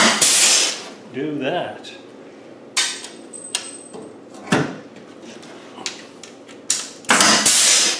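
A pop rivet gun sets rivets with large spreader washers to locate a plate on a Ghana 110, making a few sharp, loud snaps spaced seconds apart, close by, with someone talking between them.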